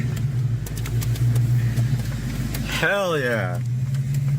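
A car with a 5.0 engine idles with a steady, deep low rumble that runs unbroken throughout, while a voice briefly exclaims near the end.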